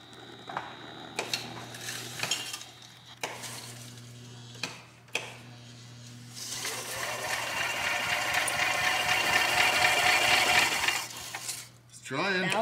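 A junkyard golf cart engine runs roughly on a 25 amp charger boost, its mechanical clatter and hum building steadily over the second half, preceded by scattered metallic clicks and brief bursts.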